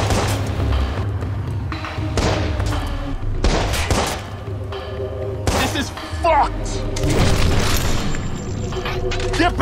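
Pistol shots in the Watch Dogs prison gunfight ring out as several sharp booming cracks spread across the clip. They mix with game noise, a steady low rumble and talk.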